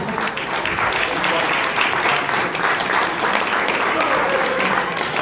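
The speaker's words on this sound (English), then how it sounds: "A round of applause, I think, for Martin Clark." Wedding guests applaud at a reception, steady, dense clapping from a full room that carries on loudly throughout, with some voices mixed in.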